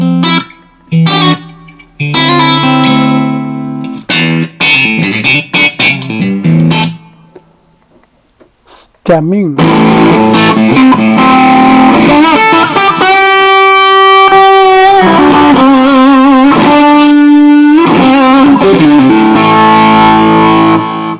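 Electric guitar with a distorted tone running through a Rocktron Chameleon 2000 effects processor, playing loud chugging riffs and sustained chords with a short pause near the middle, no talking.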